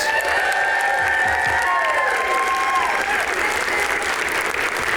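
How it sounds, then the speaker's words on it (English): Awards-night audience applauding and cheering, loud sustained clapping with whoops and voices mixed in throughout. "How about a round of applause for our rising stars?"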